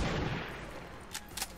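A single muffled gunshot in XCOM 2 lands at the start and rumbles away quietly, with a couple of faint sharp clicks trailing after it.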